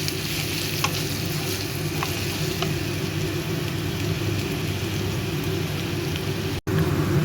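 Turmeric, cumin and coriander powder fry in hot oil with a steady, loud crackling sizzle close by, continuous throughout apart from a momentary dropout near the end.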